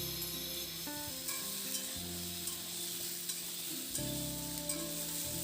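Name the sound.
potato and ridge gourd frying in oil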